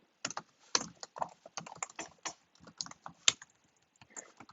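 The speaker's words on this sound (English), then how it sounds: "I can type." Rapid keystrokes clatter on a computer keyboard, a steady run of close, crisp clicks with brief pauses, no voices.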